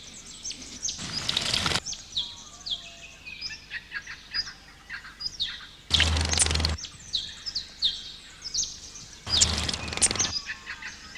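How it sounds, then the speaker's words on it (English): Small birds, a white-fronted chat and a wren, at a waterhole bathing spot: busy high chirps and twitters throughout, broken by three loud bursts of splashing and wing flutter. "This white-fronted chat has taken the wren's regular bathing spot. The wren tries to chase it away"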